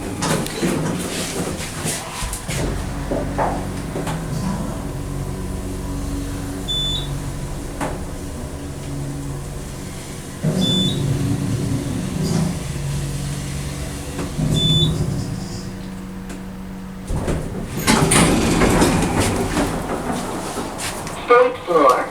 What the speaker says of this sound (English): Basic parking structure elevator though.